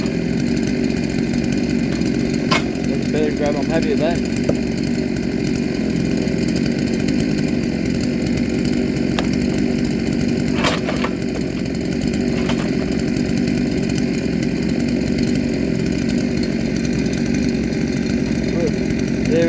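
A 72cc chainsaw, a Neo-Tec NS872 or Baumr-AG SX82 clone, runs steadily and loud throughout, with someone speaking briefly over the engine.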